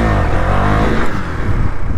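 A KTM Duke 390 motorcycle engine revs hard and close, a loud sustained growl with steady throttle held throughout during wheelie practice.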